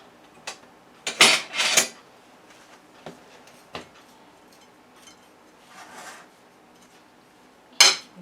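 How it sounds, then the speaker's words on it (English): Brown sugar stirred into a bowl of blueberries, giving scattered scraping and clinking spoon-against-bowl strokes with brief pauses, closer and louder bursts near the start and end. "I'm just going to mix this in."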